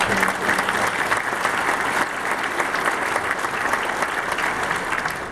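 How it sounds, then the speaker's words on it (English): An audience at a keynote event applauds the event committee and its co-chairs, a steady, dense wash of clapping that holds at full strength throughout with no speech over it. "Let's give them a round of applause."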